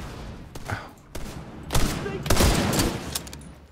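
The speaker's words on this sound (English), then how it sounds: "Is that a sniper turret?" Gunfire in The Division 2 during a firefight, a series of loud, sharp shots and bursts with echoing tails, close and dense.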